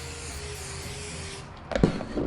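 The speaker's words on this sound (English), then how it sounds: "So that's why you're spraying it so it looks wet, shaking it, spraying it again." Scotchgard sprays onto sand inside a jar as a steady, airy hiss of aerosol, followed by louder rattling and knocking as the jar is handled and shaken.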